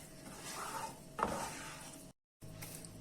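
Flour halva being stirred in a pot over the heat, a steady scraping and rubbing of a spoon against the pot with a brief louder scrape midway, then a short gap before stirring resumes.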